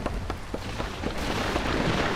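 Thunder from a nearby lightning strike in the video game Vintage Story rolls in as a broad, swelling rumble over falling rain, growing louder toward the end.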